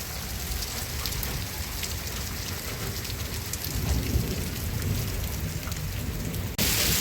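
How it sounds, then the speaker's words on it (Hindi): Heavy rain with hail pours down in the Uttarakhand hills, a dense, roaring hiss with deep rumbles of thunder rolling underneath, loud and continuous throughout. "बादलों की तेज़ गड़गड़ाहट है, काफ़ी तेज़ बारिश होती हुई। ओले गिर रहे हैं इस समय"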